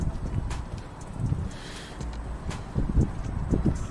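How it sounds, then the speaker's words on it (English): Gusty wind blowing outdoors beside a shopping mall on a blustery day after rain, a steady low broadband rush with swelling gusts and some rumbling buffeting against the microphone throughout. "It's a windy day."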